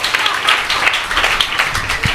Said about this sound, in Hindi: इसलिए जोर से तालियां बजाकर प्रभु यीशु को धन्यवाद दीजिए।